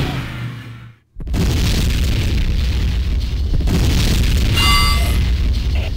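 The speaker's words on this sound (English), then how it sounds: "Enemy generator destroyed!" A generator blows up in the Tribes 2 video game: a loud, deep boom bursts in after a moment of near silence and rolls on as a sustained, crackling rumble.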